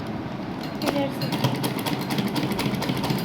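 A sewing machine stitching fabric close by, its needle running in a fast, even mechanical chatter while someone speaks over it.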